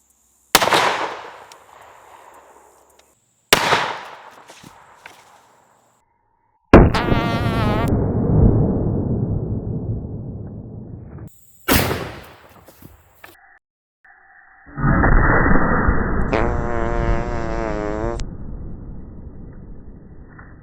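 A large-caliber hand cannon fires Hornady Custom 300 grain FTX rounds outdoors, with four loud, sharp shots spaced apart, each followed by a ringing decay, and no talking.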